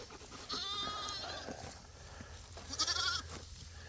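Sheep, including young lambs, bleat twice at close range, wavering cries separated by a pause over low background rumble, no speech.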